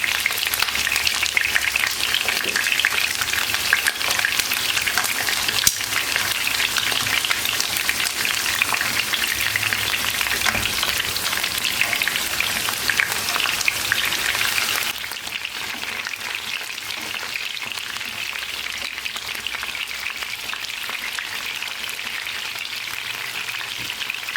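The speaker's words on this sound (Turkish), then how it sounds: "patlıcanları, patatesleri çevire çevire kızarttım" Steady, dense sizzling of eggplant and potatoes frying in hot oil continues throughout, crackling evenly and turning slightly quieter partway through.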